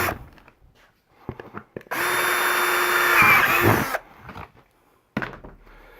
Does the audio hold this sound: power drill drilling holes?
yes